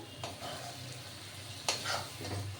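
Masala frying in a kadai for prawn malai curry, a soft, low sizzle with the scrape of a spatula stirring now and then, fairly faint and close.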